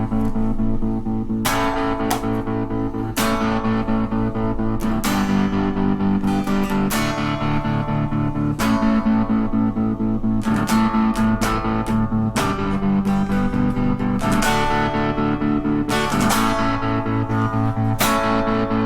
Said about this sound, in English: I'm going to adjust the amp for a bit of distortion.